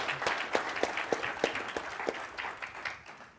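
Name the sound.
conference audience applause for Tyler's demo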